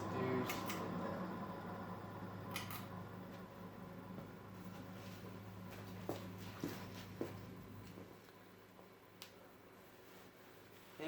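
A Casablanca Delta II ceiling fan spins down: its steady hum slowly fades and the low drone stops near the end, with scattered knocks and clicks in between.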